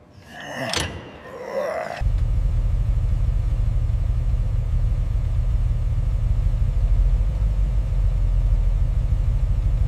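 A restored 1960s hydrofoil boat engine starts with a brief burst of noise giving way to a loud, steady low rumble that drones on evenly for several seconds.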